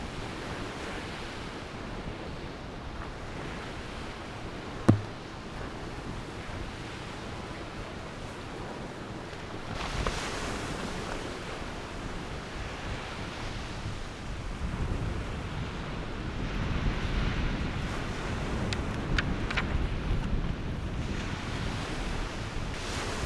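Ocean waves wash continuously onto a beach, a broad rushing surf roar mixed with wind buffeting the microphone and a sharp knock near the start.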